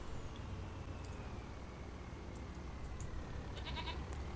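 Goats bleat on a farm in the Farming Simulator 25 video game, a faint, short run of repeated bleats near the end over a steady hum of background noise, with no talk over it.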